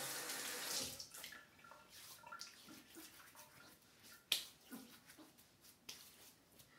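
Running water from a tap splashes and trickles as a man wets his face before building a shaving lather, with soft bursts and a sharper splash midway, close and fairly quiet.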